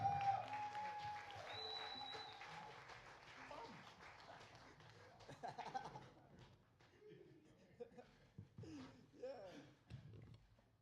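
Concert audience applauding for the performer at an International Jazz Day event, a broad sustained wash of clapping that fades after a few seconds, followed by scattered crowd noise and brief talk.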